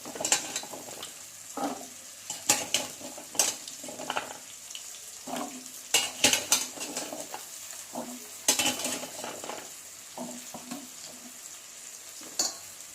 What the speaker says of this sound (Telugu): మళ్ళీ అవి వేగనివ్వండి